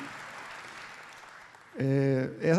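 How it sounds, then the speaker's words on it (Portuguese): An audience at the FIT 2018 opening in São Paulo applauds the organizing team with soft, steady clapping that fades out before a loud voice cuts in. "eu peço uma salva de palmas para o Eduardo e para toda a equipe que está trabalhando com ele"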